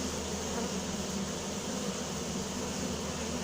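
A newly settled honeybee swarm hums at its hive in a steady, dense buzz, close and continuous with no voices.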